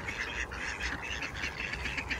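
Ducks quack repeatedly while being fed alongside pigeons and geese outdoors, the calls fairly faint and scattered over the whole stretch with no talk.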